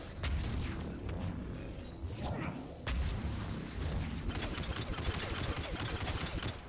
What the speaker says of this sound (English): I'm gonna pepper you with gunfire and all the goddamn bullets you can handle.